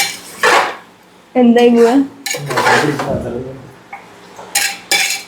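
Chicken masala being stirred in a pot during home cooking, with metal spoon scraping and clinking against the pot in short bursts, interleaved with someone speaking.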